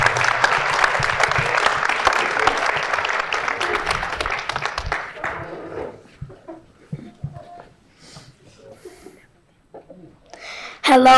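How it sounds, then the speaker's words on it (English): Loud town hall audience applause with cheering fills the first half, then thins out to scattered claps and quiet rustling before a final burst. "Give this young man a round of applause."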